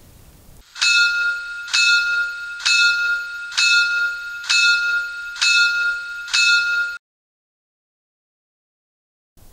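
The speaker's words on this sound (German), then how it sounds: "F4 Glocke," Bell of a PIKO N-scale BR 82 steam locomotive sound model, ringing six evenly spaced, bright metallic strokes about one per second, loud and close, then stopping into silence.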